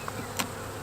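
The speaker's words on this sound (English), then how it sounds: "They're just buzzing around wondering why the top of their home just got taken off." Honey bees buzzing around an opened beehive during maintenance, a faint steady droning hum with a slight rise midway, soft and continuous without voices.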